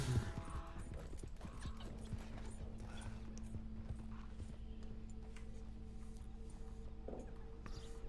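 Hooves clip-clopping from a horse in the video game Red Dead Online, a steady rhythmic gait with mechanical rattling and a brief whinny, close and moderately loud, with no talking.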